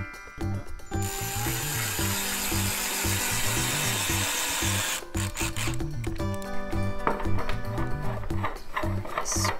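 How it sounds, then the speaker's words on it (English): A cordless power drill runs into wood, its motor whining steadily for several seconds, then stopping and restarting in shorter grinding bursts with rhythmic pulsing, close and loud. "First we drill the holes, and then we use the drill to put the screws in."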